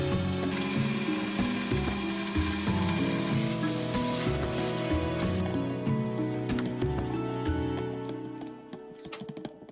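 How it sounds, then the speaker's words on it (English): A Carvera Air desktop CNC machine cuts out a base, leaving small holding tabs, with a dense steady whine of spindle and stepper motors and gritty cutting noise for most of the run before it thins and breaks up near the end. "Finally, I cut out the base, leaving small tabs so the part wouldn't fly off during machining."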